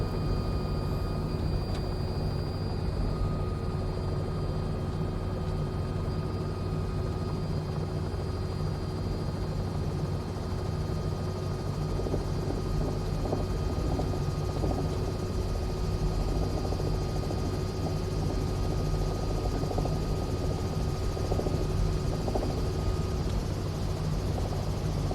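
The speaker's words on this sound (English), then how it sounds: "Tell me that doesn't sound like an R66" A Robinson R66 helicopter in a flight simulator game, with a continuous turbine whine and rotor drone holding steady and loud throughout and no talking.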